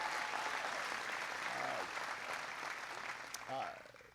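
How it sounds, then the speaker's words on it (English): An audience at NC State applauds Secretary of Energy Ernie Moniz, a dense sustained round of clapping that fades toward the end as a voice briefly speaks over it. "Give him a big round of applause."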